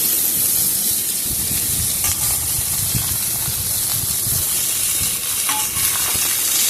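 Vegetables frying and being stirred into a hot spice tempering for a Bengali Ekadashi khichuri without dal, with a steady close sizzle and hiss and occasional stirring scrapes throughout.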